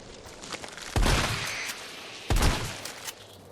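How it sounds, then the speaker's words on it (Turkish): Two loud shotgun blasts from the Resident Evil 3 Remake video game, about a second and a half apart, each with a sharp crack that rings briefly into a lingering tail. "Hem pompalı mermimizi de kullanıyoruz."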